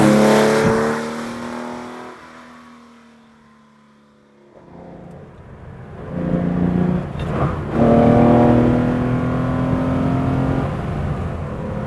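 A Porsche ST sports car drives through curves, its engine droning and swelling as it revs through the bends, loud at first, then dipping, then rising again with a steady roar.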